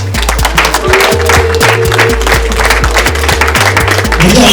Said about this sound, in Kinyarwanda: amashyi n'impundu